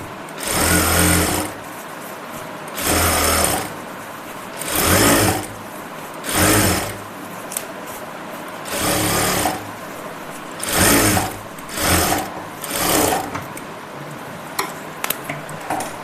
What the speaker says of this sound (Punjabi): ਇਹਦੇ ਸੈਂਟਰ ਦੇ ਵਿੱਚ ਇੱਕ ਸਲਾਈ ਤੁਸੀਂ ਲਗਾਉਂਗੇ